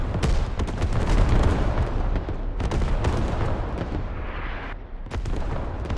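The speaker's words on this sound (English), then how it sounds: "Command artillery just obliterating everything in its path" Heavy artillery barrage in a military video game, with dense, continuous explosions and booms rolling one after another over six seconds, loud and close, with no talk over it.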